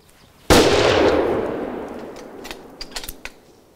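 A single loud rifle shot fired at a mountain nyala on a hunt in Ethiopia cracks sharply and then rolls away in a long decaying echo, followed by faint clicks and small movement sounds.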